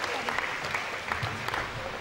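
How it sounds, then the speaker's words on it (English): An audience breaks into steady applause for Sharmistha at a tutorial institute's felicitation function, with dense, continuous clapping and murmured crowd noise filling the whole moment at moderate volume. "Can we cheer up for Sharmistha?"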